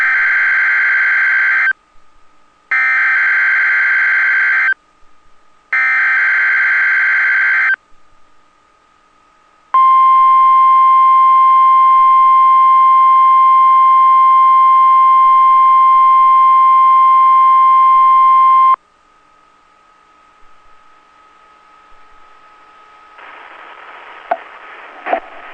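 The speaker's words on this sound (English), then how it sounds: "The National Weather Service in Chanhassen, Minnesota, has just activated the warning alarm on 13 weather radio stations" NOAA Weather Radio emergency warning alarm: three loud repeated data bursts, then a long steady 1050 Hz-style warning tone lasting about nine seconds, followed by quiet hiss and faint noise, with no speech.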